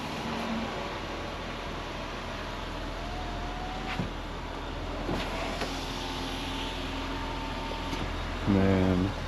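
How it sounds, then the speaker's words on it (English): Engine of a 2021 Jeep Grand Cherokee running at idle: a steady, low, even rumble throughout, with a few faint clicks and a short buzzing burst near the end. "Go ahead and start the vehicle so we don't kill the battery."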